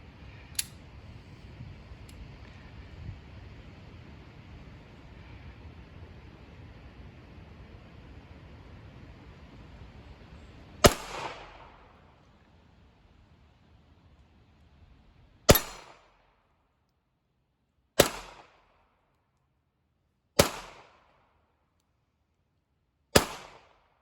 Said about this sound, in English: He's going to shoot at the steel targets.